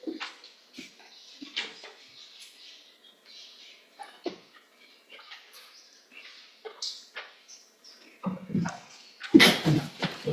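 One loud, close, abrupt sneeze bursts out near the end, after a stretch of faint scattered rustles and small noises.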